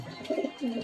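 A bloodline pigeon held in the hand coos softly at close range in two short rolling bursts.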